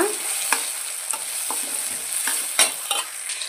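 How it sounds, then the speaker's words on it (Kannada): Green chillies, tomato and carrot frying in a pan for vegetable rice while stirred, with a steady sizzle broken by repeated sharp spatula scrapes and taps close by. "ಹಾಗೆ ಕ್ಯಾರೆಟ್ ಹಾಕಿನೂ ಸಹ ನಾವು ಫ್ರೈ ಮಾಡೋಣ"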